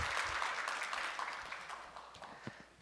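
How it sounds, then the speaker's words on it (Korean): Applause from a church congregation during a Sunday evening service in Korea, a steady wash of clapping that gradually fades, with no talk over it. "축하드립니다. 박수 쳐주세요."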